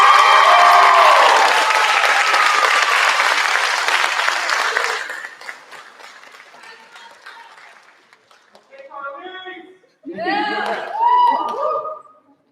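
A theater audience at a school awards ceremony bursts into loud, dense applause with cheering that lasts about five seconds, then fades to scattered claps before a voice speaks.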